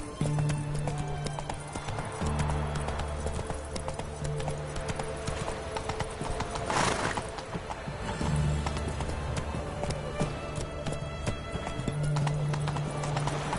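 Roach the horse galloping in a video game, a fast, steady clip-clop of hooves running throughout with occasional whinnies and snorts, over in-game music tones and a brief rushing swell midway.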